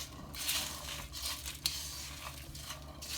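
Turmeric powder being mixed into ground spices in a hot pan with the flame off: soft, close scraping and gentle crackle in uneven strokes over a low steady hum, with no talking.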